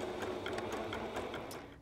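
A sewing machine runs a steady zigzag stitch over embroidery thread to gather a ruffle, a continuous close mechanical whir with rhythmic needle ticking and no talking.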